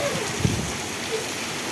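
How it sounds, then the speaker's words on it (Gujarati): Torrential rain pours down steadily during a mini windstorm in Vejalka village, a dense, loud roar of drops hitting surfaces with a brief thump partway through. "કેટલો અતિ ભારે વરસાદ પણ પડી રહ્યો છે સાથે."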